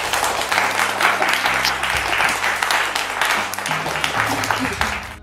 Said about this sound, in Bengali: একটা কি জোরে হাততালি পেতে পারি?